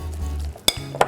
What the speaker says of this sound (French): on va incorporer notre haché d'agneau, comme ceci, et on va bien mélanger